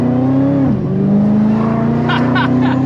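Car engine fitted with a Whipple supercharger revving loud and close from inside the cabin, a sustained droning pitch that dips briefly at a shift then climbs again, with a faint supercharger whine and light clicks.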